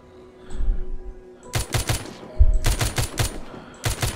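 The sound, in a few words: gunfire from a fast-firing weapon in The Walking Zombie 2 video game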